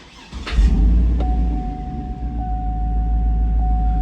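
A 2008 GMC Yukon Denali cranks over with its muffler cut off: a short starter whir, then the engine catches and settles into a loud, steady, deep idle rumble close by, with a thin constant whine riding above it.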